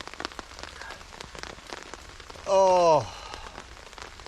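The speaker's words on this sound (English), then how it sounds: "Love the sound of rain on a tarp." Rain drumming steadily on a camping tarp over a hammock in the woods, a close continuous patter, interrupted midway by a brief loud voiced exclamation with a falling pitch.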